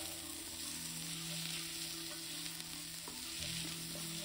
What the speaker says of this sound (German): Ab in den Topf mit Olivenöl anrösten.